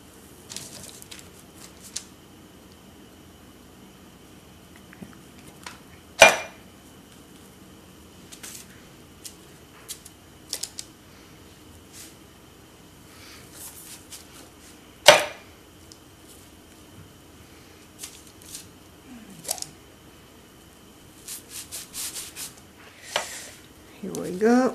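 A cutter presses through thin rolled biscuit dough in a quiet kitchen, making a few sharp isolated taps and soft squishy contacts spread out with long near-silent gaps between them.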